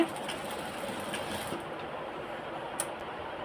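A sewing machine tacks elastic onto a hijab with a quiet, steady mechanical whir and a soft rapid needle rhythm, ending in a brief click.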